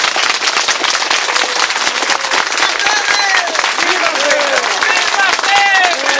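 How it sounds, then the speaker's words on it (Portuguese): Crowd applause at an outdoor village commemoration of a historic charter in Portugal, dense steady clapping mixed with whistles and cheering voices, loud and sustained throughout. "Uma salva de palmas para o nosso lado."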